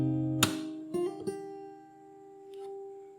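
An acoustic guitar played fingerstyle picks out the opening bar of the bridge of a song, with a few plucked notes and a percussive wrist thump ringing out cleanly at close range before fading.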